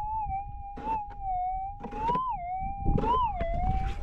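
A metal detector sweeping over a gold target at a goldfield patch near Sandstone gives a steady, clear electronic tone that warbles and rises briefly as the coil passes, over faint crunchy ground noise.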